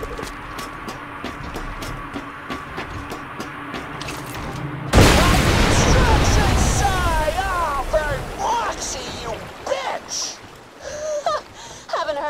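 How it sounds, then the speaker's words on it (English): Explosives blowing up in the video game Borderlands 2: a sudden loud blast rolls into a long rumbling roar with crackling debris, set against steady background game sounds. "the explosive, sugar. They're gonna make a big boom."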